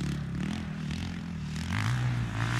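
Yamaha dirt bike engine revving while riding, a rough mid-distance drone that rises in pitch toward the end as the rider accelerates, with some scraping clatter.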